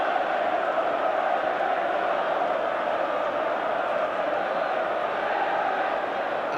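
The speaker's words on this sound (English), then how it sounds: "Manchester United supporters applaud the goal after 14 minutes" Manchester United supporters applaud a goal at the Nottingham Forest ground, a steady, dense crowd roar with applause and noise holding loud and even throughout.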